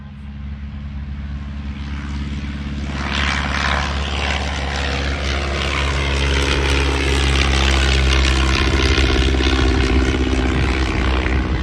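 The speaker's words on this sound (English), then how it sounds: "here comes the de Havilland DH-82 Tiger Moth. Pouring on the coal for that 1934 biplane." Loud propeller engine of a 1934 de Havilland DH-82 Tiger Moth biplane drones steadily and builds as it powers up and takes off, its pitch shifting slightly as it passes nearby, at Rhinebeck Aerodrome, New York.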